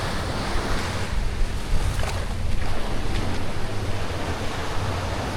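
Ocean surf breaking on the beach in the center of Playa del Carmen, a steady dense wash of waves with wind buffeting the microphone, loud and continuous with no voices.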